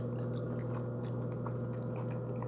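Mango being chewed up close at a mukbang, soft wet squishy mastication over a constant low hum.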